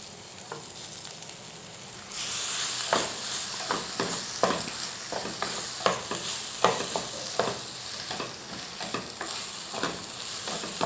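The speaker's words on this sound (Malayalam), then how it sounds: "നല്ലപോലെ മിക്സ് ചെയ്ത് കൊടുക്കുക." Potatoes with turmeric sizzle in a frying pan, the hiss rising sharply when they go in, followed by repeated clinking and scraping stirs over a continuous fry.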